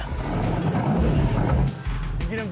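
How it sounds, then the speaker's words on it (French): Drag race cars do a burnout to heat the tires before a grudge race: a loud, steady engine roar with hissing tire noise and a deep low rumble, close by, dipping briefly before surging again. "Faites chauffer la gomme."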